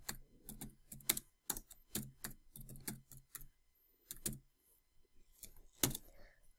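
Keys on a computer keyboard click in quick, uneven bursts of typing, crisp and close, with brief pauses between runs of keystrokes.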